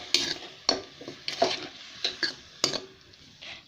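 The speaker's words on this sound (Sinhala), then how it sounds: "මම දැන් කරන්නේ අපේ මේ පොල් කිරි කෝප්ප කාලත් මේ විදිහට එකතු කරගන්නවා." Coconut milk goes into potato rice in a cooking pot, heard as sharp scrapes and clinks of a spoon against the pot, repeated in an uneven rhythm over a soft sizzle.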